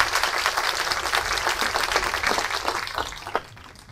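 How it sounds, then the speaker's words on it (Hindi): A large audience at a Hindi poetry recital and kavi sammelan in Delhi breaks into dense, sustained applause that stays loud and close before gradually thinning out near the end. "एक बार जी खोल करके तालियां बजा दीजिए ताकि मैं बता सकूं।"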